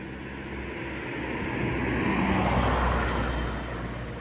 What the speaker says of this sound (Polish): Jedzie samochód.